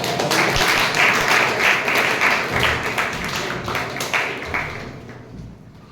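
An audience at a Toastmasters club meeting claps, a dense burst of applause from a modest room-sized crowd that holds steady for several seconds before fading out near the end.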